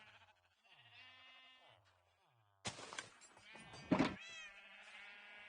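A cat meows several times, soft short cries at first and then a louder, sharper meow, heard close and alone with no talking.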